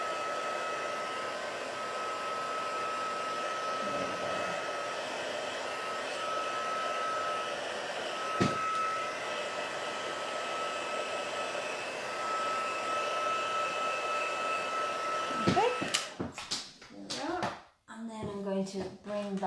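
A heat tool blows with a steady, loud, close whirring roar while drying the other side of wet craft paper, then cuts off near the end as a voice starts talking.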